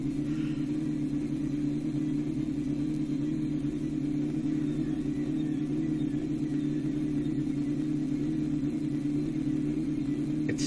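A car engine idling steadily with no oil in My Summer Car, a constant low droning hum and rumble held without change throughout, alone with no talk.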